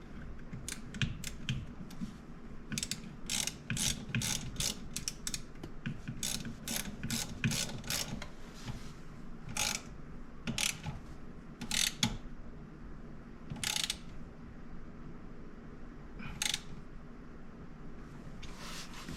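Ratcheting clicks in quick uneven bursts while an Audi clockspring assembly is tightened down, close and crisp over a low steady background hum.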